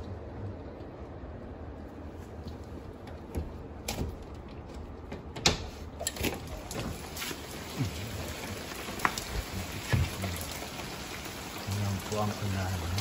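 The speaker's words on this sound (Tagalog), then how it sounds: "Ayan po ang ulan." Steady rain falling in Los Angeles on a November morning, a dense continuous patter with scattered louder drips and knocks close by, and someone speaking briefly over it.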